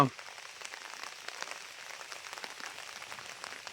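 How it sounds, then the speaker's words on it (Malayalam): Light monsoon rain at a dam, a steady patter with scattered soft droplet taps, fairly quiet and continuous throughout. "വലിയ മഴയില്ല ചെറിയ മഴയാണ് കേട്ടോ"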